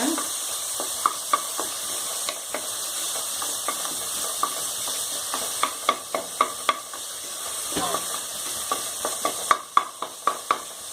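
Chopped tomatoes sauté in a pan for mutton leg soup, a continuous sizzle and hiss punctuated by frequent sharp clicks of a spoon stirring against the pan, with no voices.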